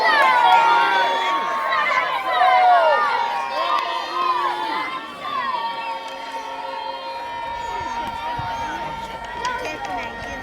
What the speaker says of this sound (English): if you're cheering for the Saxons, then cheer now